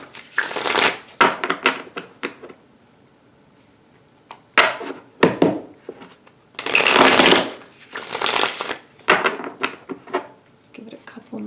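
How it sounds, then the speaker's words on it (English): Tarot cards are shuffled by hand close up, bursts of riffling and slapping in uneven runs separated by short pauses, with no voice over them. "Give it a couple more shuffles till it feels good."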